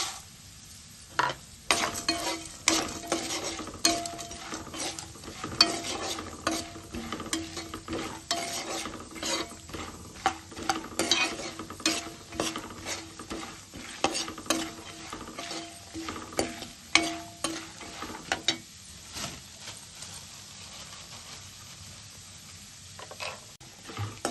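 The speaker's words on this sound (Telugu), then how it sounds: "పల్లీలు ఇలా వేగిన తర్వాత కొన్ని జీడిపప్పులు ఇవి కూడా వేపుకోవాలి." Cashews fry in a pan after peanuts for an Atukula mixture, a steady sizzle under many sharp scrapes and clicks of stirring, close and fairly quiet throughout, with no voices.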